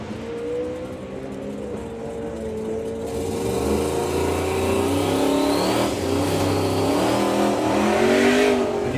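A doorslammer drag racing car launches off the start line at a drag strip, its engine roaring loudly and rising in pitch for several seconds as it accelerates away, with crowd and track ambience behind it.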